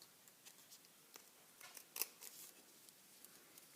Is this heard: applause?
no